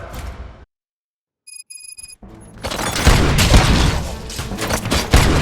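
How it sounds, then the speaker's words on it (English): Dense, loud bursts of gunfire in the Robocop: Rogue City video game erupt after a short silence and a few high electronic beeps, then keep pounding for several seconds. "Gunshots? What's going on?"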